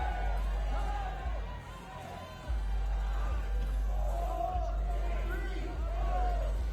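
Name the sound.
crowd counting down the ice climber's time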